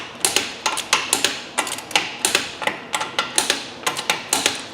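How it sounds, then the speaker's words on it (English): A torque wrench clicks repeatedly while tightening lug nuts on a Dodge Dakota 2WD, sharp close ratcheting bursts in an uneven rhythm of a dozen or so clicks, with no talk. "I torque pretty much all cars to 90 foot-pounds"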